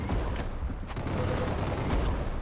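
Gunfire from other players in the Roblox game Arsenal, a dense continuous rattle of shots with a few sharper bursts, steady and fairly loud throughout with no talk.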